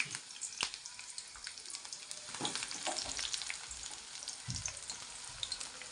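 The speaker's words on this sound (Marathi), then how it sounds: "कांदा टाकते तेल ठेवले मी इथं उडते तेल" Chopped onion sizzles and spits in hot oil for a yellow potato dish, a steady crackling fry with occasional sharp pops and a few scraping stirs, close and fairly quiet, with no voices.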